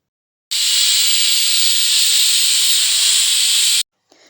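A pressure cooker whistles while cooking horse gram, a loud, steady hissing jet that holds for about three seconds alone, then cuts off abruptly, leaving a faint trailing sputter.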